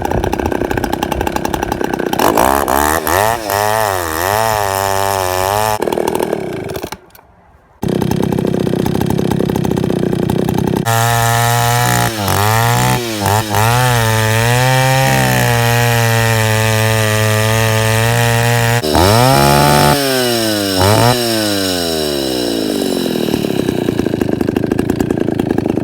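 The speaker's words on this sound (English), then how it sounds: "Just a slow revving, actually a really quiet saw." A Husqvarna L65 chainsaw running loud and close, holding a rough idle and then swelling into long high revving bursts as it cuts through wood, with one short drop to near silence partway through.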